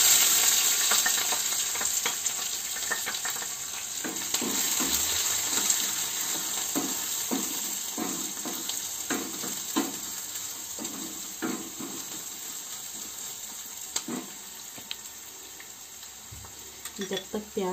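Onions sizzle and crackle in a hot pan of oil for Himalayan-style rajma, with a steady hiss and repeated bursts of stirring clatter throughout.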